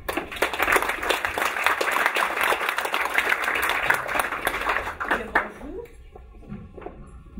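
An audience applauds after a speaker at a launch event about succeeding through social media, a dense, steady round of clapping that fades out near the end, with some voices mixed in.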